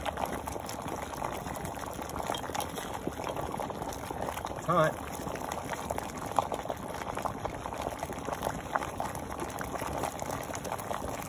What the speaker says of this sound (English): So we've got boiling water here